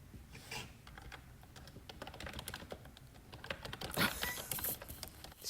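Quick, forceful typing on a computer keyboard at a call center desk, a steady close clatter of sharp key strikes with a heavier burst of hits near the end, no voices.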